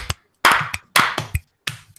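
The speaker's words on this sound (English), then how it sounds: "you want to clap me in" Hands clap in a short burst of about five claps, sharp and close, with uneven spacing and brief silences between them.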